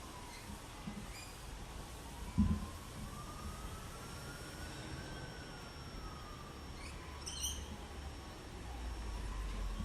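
A distant ambulance siren wails faintly, rising and falling slowly over steady outdoor traffic hum, with a couple of short bumps and a brief high chirp.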